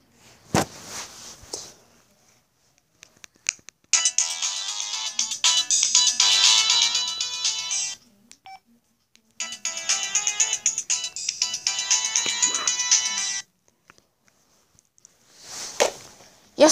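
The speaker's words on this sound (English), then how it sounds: "So yeah, those were our ringtones." Several different phone ringtones play in turn, melodic electronic tones separated by short pauses, with brief bursts of noise at the start and end.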